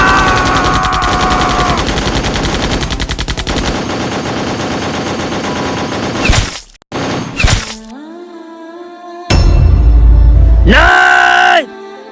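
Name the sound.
machine gun fire, gunshots in a comedy skit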